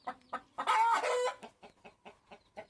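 A black hen clucks near her eggs, giving a drawn-out call followed by a string of short, evenly spaced clucks, close by and fairly quiet, with no talk.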